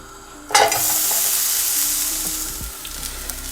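Sliced onion dropped into a pan with a few sprays of oil bursts into a loud sizzle, then settles into a steady close frying hiss with light stirring knocks.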